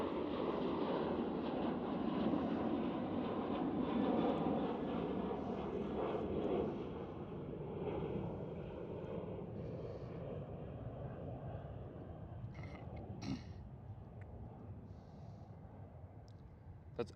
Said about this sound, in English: It's Transavia 737-800.